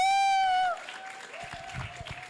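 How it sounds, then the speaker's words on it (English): At an edtech summit, a high whooping cheer rings out briefly before an audience breaks into scattered applause as mentors walk up to the front, the clapping uneven and fairly close. "Let's have a round of applause as they come."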